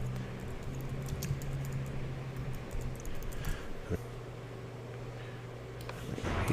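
Light typing on a computer keyboard, soft quick key taps spread across the clip over a low steady hum.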